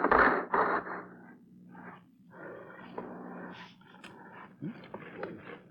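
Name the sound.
dogs barking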